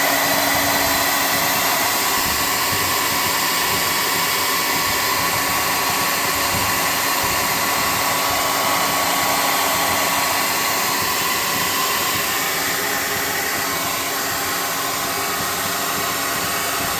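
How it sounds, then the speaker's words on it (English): A hot air gun blows steadily while drying paint on cardboard, a loud, unbroken whooshing hum that holds nearly level throughout with no talking. "get your hot air gun. Try to dry this off some."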